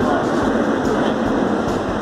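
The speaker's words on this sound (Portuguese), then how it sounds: "na estação Jardim Oceânico do metrô na Barra" Metro train rumbling through Jardim Oceânico station in Barra on a Saturday afternoon, a dense, steady roar of wheels and motors filling the platform, with a voice faintly present underneath.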